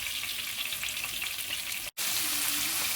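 Garden eggs (eggplant) frying in hot oil for a stew give off a steady, dense sizzle that stays loud and even throughout, broken by one brief silent dropout near the end.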